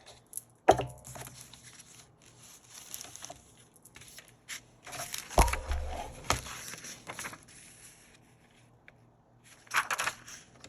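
A paper trimmer slices strips of polka-dot craft paper, making close, scraping, crunchy cuts: one near the start, a longer cluster in the middle, and another near the end, with quiet handling noise between them.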